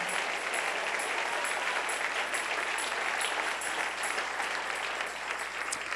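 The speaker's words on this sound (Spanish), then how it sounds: "Dale ese aplauso al Rey en esta maravillosa y preciosa mañana." A church congregation at a Sunday morning service applauds together, a continuous wash of clapping that holds evenly for several seconds, with a few louder individual claps standing out near the top of the crowd.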